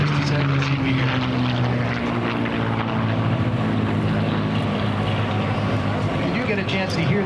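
An F-16 fighter jet climbing, its loud engine roar carrying a faint whistling tone that shifts in pitch, steady and sustained, with speech seeming to run over it.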